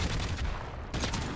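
Rapid automatic fire from an XM-LAR rifle in a video game, a dense burst of loud, close shots with a brief gap before firing resumes.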